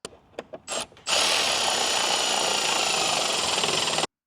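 A power drill boring holes in a C8 Corvette, starting with a few short close trigger bursts, then one loud sustained high-pitched whir for about three seconds before cutting off abruptly.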